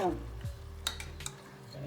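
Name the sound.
masala frying in tempering for mutton sambar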